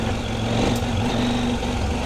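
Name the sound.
CFMOTO Ibex 800T motorcycle engine on rocky creek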